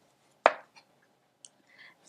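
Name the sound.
roughly chopping broccoli with a knife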